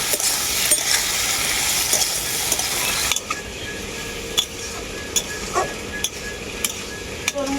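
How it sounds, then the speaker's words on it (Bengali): Ginger paste being fried with watermelon-rind vegetables in a pan, a strong sizzle that drops in level partway, with regular metallic spatula taps and scrapes throughout, no voices. "আদাটাকে আমি সবজির সাথে খুব ভালো করে ভেজে নেব"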